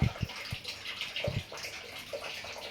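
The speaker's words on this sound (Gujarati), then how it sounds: "અમારે બેન પાણી ઢોળે છે ચોકડીમાં" Water being poured out in a home washing area, splashing and trickling close by, with a few low thumps of a container early on and no one speaking.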